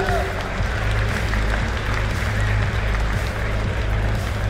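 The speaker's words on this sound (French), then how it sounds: "on peut les applaudir et les remercier" A crowd claps steadily in a large room at a FIFA 19 gaming tournament final's trophy presentation, a continuous wash of applause with low background rumble and some voices mixed in.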